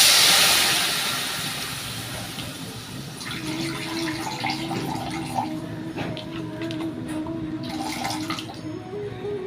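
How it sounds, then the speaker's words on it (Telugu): Tamarind-tomato water poured into a hot tempering for rasam, giving a loud initial hiss that settles into a steady sizzling bubble with faint clinks throughout. "చింతపండు టమాటా కలిపిన వాటర్ బాగా మిక్స్ చేసి ఒకసారి ఇందులో పోసుకోండి"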